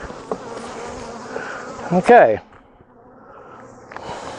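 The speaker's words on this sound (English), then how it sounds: "some of these bees try and crawl back in, but they seem to brush out pretty good" Honey bees buzz around a beekeeper pulling honey supers from a hive, a steady drone with a loud close burst in the middle, and a person speaks briefly.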